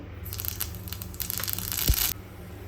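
Mustard seeds spluttering in hot oil, a close crackling burst of popping and sizzle that builds over a couple of seconds, then cuts off abruptly.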